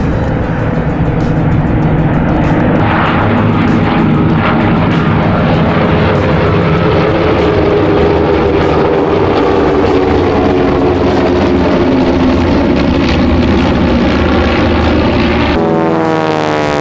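Propeller warbird aircraft, such as a Spitfire or P-51, flying at the Temora air show in Australia: a loud, steady engine roar sustained throughout, with a shifting drone as it passes and a brief change near the end.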